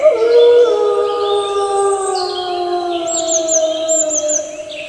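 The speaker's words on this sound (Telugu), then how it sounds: "అది భయంకరంగా అరుస్తూ అక్కడి నుంచి పారిపోయింది" A wolf howls long and loud in a children's story scene, several drawn-out wavering howls overlapping and sliding in pitch, with a higher yelping cry near the end.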